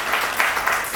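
Applause from an audience at a Hindi kavi sammelan poetry gathering, a dense wash of many hands clapping steadily and fairly loud for a brief moment, with no voices standing out.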